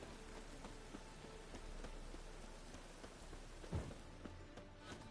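Rain falling in The Witcher 3, a steady soft patter on surfaces with scattered drops and one louder thump, continuous and fairly quiet throughout.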